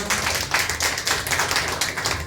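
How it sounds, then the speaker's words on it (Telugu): A church congregation claps loudly together in a steady, rhythmic burst of many hands, dense and close, with no one talking over it. "అందరూ గట్టిగా చప్పట్లు కొట్టి దేవుని మహిమపడతాం."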